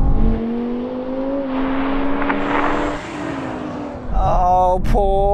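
Engine roar from a BMW M5 V10 Touring drag racing a BMW M440i, a loud sustained drone with rising pitch that dips briefly at a gear change before a second revving surge near the end.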